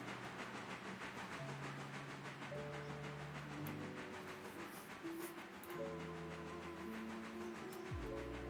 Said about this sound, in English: I hear you messing with that whistle